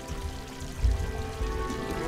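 A small figure made of yarn drops into water in the puzzle platformer Unravel: a soft splash and low watery burble, fairly faint, with a second gentle slosh shortly after over quiet ambient game sound.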